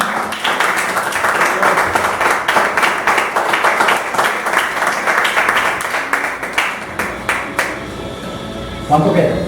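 A church congregation claps loudly and steadily at a service, rapid dense applause filling the room, with voices speaking over it before the clapping fades near the end.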